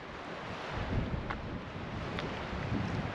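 Wind blowing steadily across a lake boat launch, a constant rushing buffet on the microphone with faint water lapping underneath.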